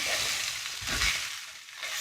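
Hash frying in oil in a pan gives a steady, close sizzle that crackles and hisses throughout with no voices.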